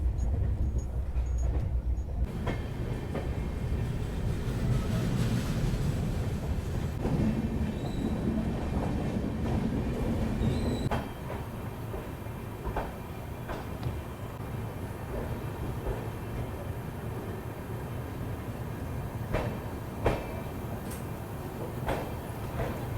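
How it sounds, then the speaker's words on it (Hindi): The Gorakhpur–Anand Vihar Weekly Express 15057 runs at 80–100 km/h, heard from inside a third AC economy coach: a continuous rumble with clattering wheels and occasional squeals, louder for the first half and then settling a bit quieter. "बस्ती से निकलने के बाद कॉन्स्टेंटली हमारी ट्रेन 80 से 100 के बीच में ऑपरेट कर रही है"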